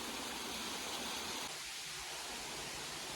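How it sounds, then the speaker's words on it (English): Waterfall on a hiking trail on the California Central Coast, a constant hiss of rushing water that drops slightly in brightness midway, steady and unbroken. "So we got to our first waterfall, a smaller one here, and then in the background here, there's a nice and big one."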